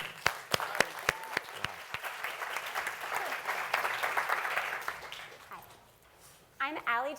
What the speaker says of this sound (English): I want to give these guys a big round of applause.